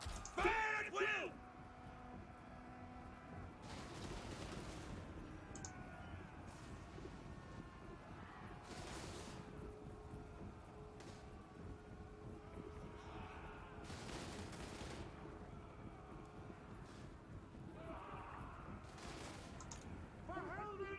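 Musket and handgun volleys crackle in a Warhammer battle game, sharp bursts recurring every few seconds over a dense continuous din of battle and distant shouting.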